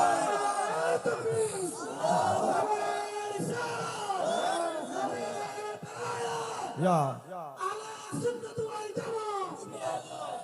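A congregation answers with takbir, many voices shouting together in repeated loud rhythmic calls, crowd-like and reverberant, continuing across the whole stretch.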